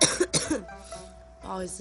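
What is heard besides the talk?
cough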